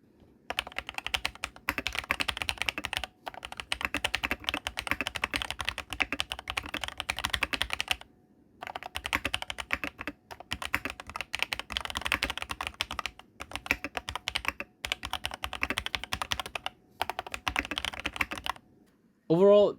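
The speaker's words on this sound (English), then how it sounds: "here's the part where you listen to me type on this keyboard" Steady, rapid clacking of a DrunkDeer A75 mechanical keyboard with Hall effect switches, in long typing bursts separated by short pauses, close and crisp, with no talking.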